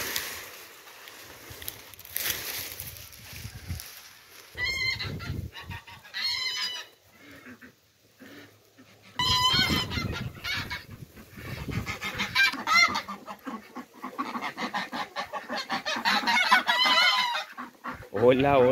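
A flock of farmyard geese and ducks honks and squawks in noisy, overlapping bursts, rising and falling with a few quieter gaps.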